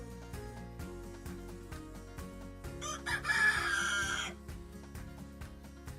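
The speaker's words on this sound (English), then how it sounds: "you get to hear the roosters" A rooster crows loudly once in the middle of a stretch among Bali rice paddies, standing out over a steady rhythmic background of repeating tones and faint ambient sound.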